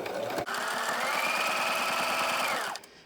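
A sewing machine runs steadily for over two seconds, stitching ribbon appliqué onto a ribbon skirt, with a brief start and a clean stop near the end; the motor is close and loud, and no one speaks.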